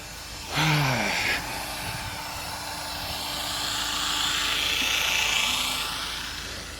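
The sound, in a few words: drill-driven water pump running jerkily, draining pond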